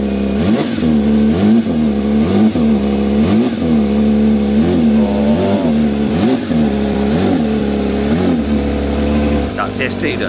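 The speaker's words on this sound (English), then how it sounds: "Give it a few revs." Close, loud car engine revved repeatedly in a steady series of rising and falling blips over a rumbling idle.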